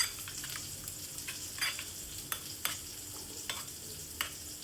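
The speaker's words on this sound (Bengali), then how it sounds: "তাতে দিয়ে দিলাম জিরে গুঁড়ো, ধনে গুঁড়ো আর কাশ্মীরি লঙ্কার গুঁড়ো দিয়ে ভালো করে মিশিয়ে নিচ্ছি।" Yogurt with cumin, coriander and Kashmiri chili powder being stirred, heard as soft, repeated scraping strokes at an uneven rhythm over a faint steady hiss, close but quiet, with no voices.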